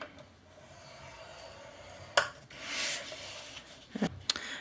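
Scoring tool drawn along paper on a Simply Scoreboard at 2-inch lines while the sheet is rotated, giving faint, soft rubbing scrapes with a few sharper clicks and taps from the board, close and quiet with no talk.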